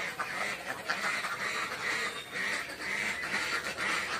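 Ducks quacking in a wet, muddy duck pen after heavy rain, a continuous overlapping chorus of calls, moderately near.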